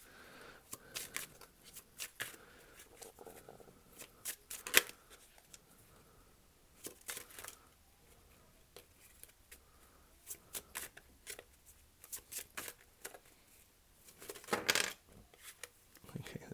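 Tarot cards being shuffled, with quick bursts of crisp, close riffling and slapping separated by short pauses, fairly quiet overall.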